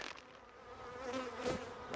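Honeybees swarm and buzz close around a beekeeper's face at the hive entrance, a steady insect hum that swells louder toward the end.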